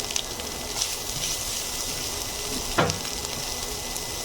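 Chopped carrots and long beans fry in a pan, a steady close sizzle with a crackle throughout and a brief louder burst near the end, no talking.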